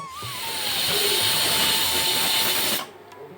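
A pressure cooker boiling black gram lets out a loud, close, continuous steamy whistle that holds for nearly three seconds and then cuts off sharply into quiet.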